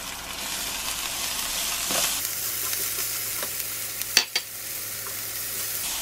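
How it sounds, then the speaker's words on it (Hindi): Carrot, capsicum and cabbage frying and being stirred in a pan for Singaporean rice, a steady close sizzle with a few sharp utensil scrapes near the end, no talking. "इन सारी वेजिटेबल्स को हम फ्राई करेंगे"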